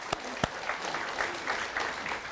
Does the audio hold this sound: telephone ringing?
no